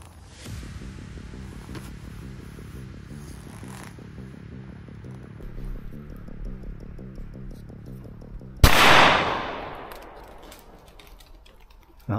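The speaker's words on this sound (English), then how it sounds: "those shots are over there" One loud, sharp shotgun blast at a pigeon shoot on a private estate, ringing out with a long decaying tail over a steady low rhythmic rumble, with faint distant pops earlier.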